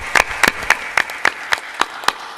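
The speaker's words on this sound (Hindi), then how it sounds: "इसलिए दमदार ताली बजाना चाहिए।" An audience claps hands together in unison at a satsang gathering, roughly nine sharp, loud claps in a steady, evenly spaced rhythm, with no talk over them.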